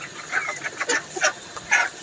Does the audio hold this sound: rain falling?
no